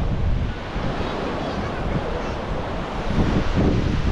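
Waves wash and roll steadily onto a beach at Ganpatipule, Ratnagiri, with wind buffeting the microphone throughout.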